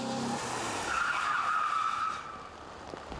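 A car skidding under hard braking on a wet road, a long rising tire squeal over tire hiss that fades out after about two seconds.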